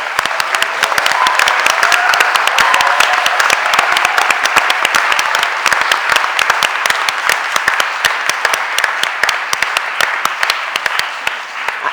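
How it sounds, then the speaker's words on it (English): A room of people at a city environment committee meeting claps steadily for a speaker, dense continuous applause lasting several seconds without a pause. "Could we give Ash a round of applause?"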